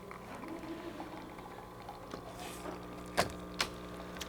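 A DeLonghi La Specialista Maestro espresso machine brewing under pressure gives a steady low pump hum and faint hiss, with two sharp clicks near the end.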